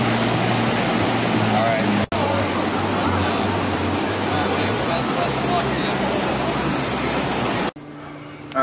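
Ocean surf at Cocoa Beach, Florida, a steady broadband wash of cold surf heard close and loud with a low rumble beneath, briefly cut twice, while someone talks over it.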